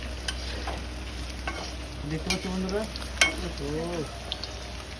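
Softened paneer pieces frying in a pan give a continuous close sizzle with occasional stirring clinks, while a voice speaks briefly over it midway.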